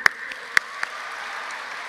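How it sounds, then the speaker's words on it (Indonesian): Crowd applause at an Indonesian gathering honouring President Jokowi: a steady, fairly faint wash of clapping with a few sharper claps standing out early on. "Tepuk tangan."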